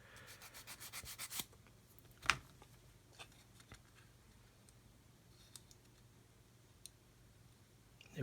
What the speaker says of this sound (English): I'm just going to sand a bit more off of there.